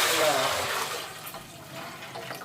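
Water poured into rice for quail biryani, five cups for two and a half cups of rice, a broad splashing pour that is loudest at the start and then eases into a softer trickle.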